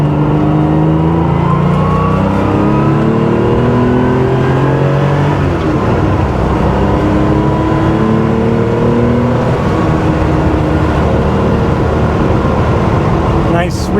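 A 1979 Porsche 911 SC Targa, its engine freshly overhauled, drives at about 80 on a paved sweeping road, giving a steady loud engine drone with wind and road roar, rising and falling slightly through the whole stretch, with a brief sharp knock near the end.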